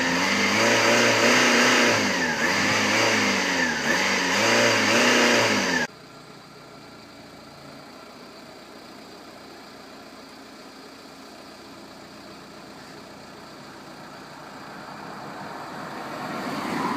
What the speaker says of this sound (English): it's a good job this family car can get to the speed we're going to